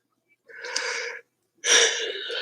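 Two drawn-out breathy yawns from a person, each about three-quarters of a second long, close to the mic with silence between them.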